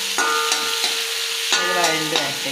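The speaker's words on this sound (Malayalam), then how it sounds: "വഴണ്ട് വഴറ്റി വഴറ്റിയെടുക്കണം, ബ്രൗൺ കളറാവും." Onions sauté for chamayari upma in a pan with a steady close sizzle, broken by a few metallic scrapes and taps of a spoon stirring.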